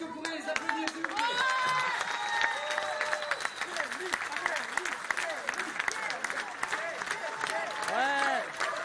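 Sustained audience applause at a convention in Lyon, a dense wash of many hands clapping with voices talking over it throughout.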